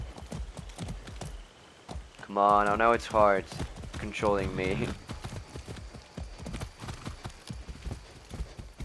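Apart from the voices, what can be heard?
horse hooves galloping in Far Cry 6 video game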